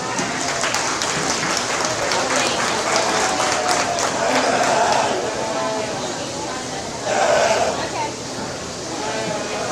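Audience applauding at a youth sheep showmanship and market lamb show, a broad crowd clapping that swells and fades, with sheep bleating intermittently and voices talking in the arena.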